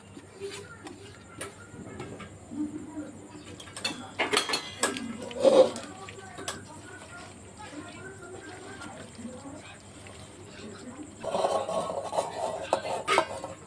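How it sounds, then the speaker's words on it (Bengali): Raw potatoes tipped into a pressure cooker in a home kitchen give a few short clattering knocks in the middle, then a denser run of rattling thumps near the end, with quiet room sounds in between. "আলুগুলো দিয়ে দিচ্ছি। প্রেসার কুকারে সব দিয়ে দিচ্ছি।"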